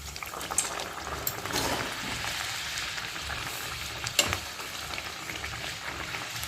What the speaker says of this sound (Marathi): तेल तापल्यानंतरच पुरी टाकायचं नाहीतर पुरी मग फुगत नाही